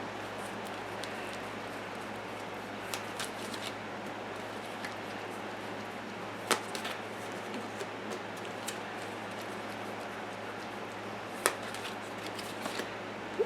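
Tarot cards are shuffled and drawn by hand at close range, giving a soft continuous riffling rustle with occasional sharper card snaps, over a low steady background hum and no talk.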